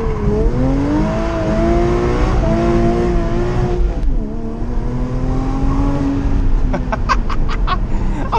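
Porsche engine revving hard during a street drift, a loud, continuous rising and falling roar with harmonic whine and sharp bursts near the end, with no talking.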